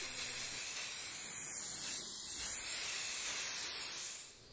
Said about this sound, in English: Then I applied a coat of Rust-Oleum 2X primer to the base.